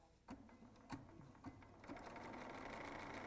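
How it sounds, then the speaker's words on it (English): BERNINA sewing machine with the #71 flat felled foot sewing down quilt binding, a few slow single stitches at first that speed into a steady whirring run, close but quiet, with no talking. "I'm going to put my needle in a center needle position so that I am going to sew"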